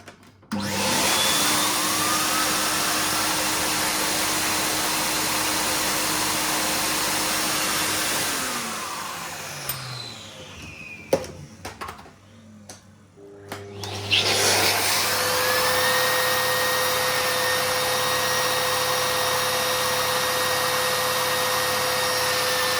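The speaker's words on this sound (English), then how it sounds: "this Miele is around 1200 watts, and the difference is incredible because it just has more airflow to make this thing turn" A loud canister vacuum cleaner with a turbine brush drones steadily, drops in pitch and cuts out for a few seconds, then whines back up to full power during a pet fur cleanup test comparing a 1200-watt Miele and a VAX 2000.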